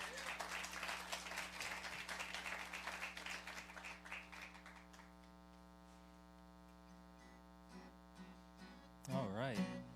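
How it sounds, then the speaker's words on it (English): A crowd at a songwriter competition qualifying round in Bristol claps for a performer for about five seconds, then the applause fades into a steady electrical hum with a brief burst of noise near the end. "Y'all make a big round of applause for Tom Lynn."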